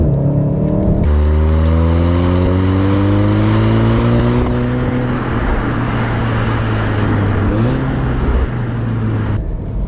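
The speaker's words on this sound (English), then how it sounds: "Especially how incredible smooth this car shifts. Engine and gearbox are absolute fantastic." A Volkswagen Golf 7 R with a Stage 1 tune revs up steadily while driving and shifts smoothly through its gears, with a short dip at each change. The engine is loud and close, heard from inside the car, with no talking.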